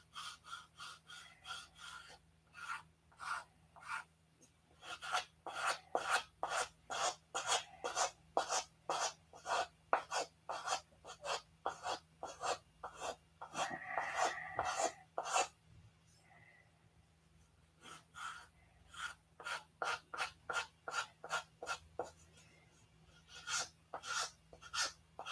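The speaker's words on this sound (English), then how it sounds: "there's a lot of boring sanding" Sanding the wingtips of a P-47 scale model by hand, giving steady rhythmic rasping strokes, close and fairly loud, running in fast bursts with a short pause partway through.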